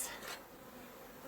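Honeybees at an observation hive, many fanning together on the top, make a steady, soft, continuous buzz heard up close, with a brief brighter swell of wing noise near the start.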